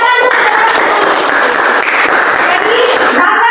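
Loud, dense clapping from a group in a Christian religious education class, continuous and close for a few seconds, with brief voices at the edges.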